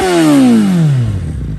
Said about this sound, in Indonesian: kita dengerin dulu suara dari Suzuki Bandit